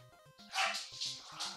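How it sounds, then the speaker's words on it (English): Dogs bark excitedly in another room during a live stream of a card game, faint and distant, with a few quick yips and barks under a quiet room tone. "You guys can probably hear my dogs going crazy in the background."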